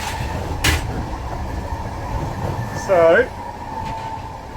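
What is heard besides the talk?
train riding in Prague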